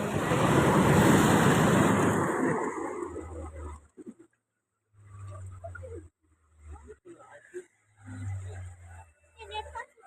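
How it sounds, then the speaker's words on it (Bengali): Churning, turbulent water with waves surging loudly and close for the first few seconds, mixed with wind buffeting the microphone, then fading into quieter lapping while a person talks over it. "জল উত্থাল পাতাল হচ্ছে"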